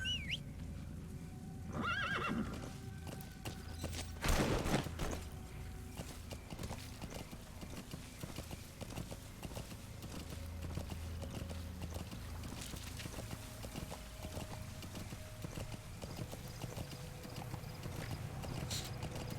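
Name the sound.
horse galloping and neighing in video game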